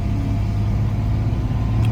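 A 1969 Mercedes-Benz 280SE sunroof coupe drives out of the woods in the Santa Cruz mountains, its engine a steady close low rumble with slight revving and no voices.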